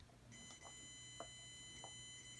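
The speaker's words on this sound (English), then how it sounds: "If I hold it against this other wire, I should get a beep." A multimeter on continuity test sounds a steady, high electronic beep while its probes touch a wire during work on a power cable for a Sharp Twin Famicom console, with a few faint clicks underneath.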